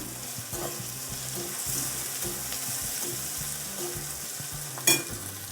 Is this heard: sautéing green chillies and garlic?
yes